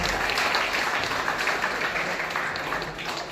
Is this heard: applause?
yes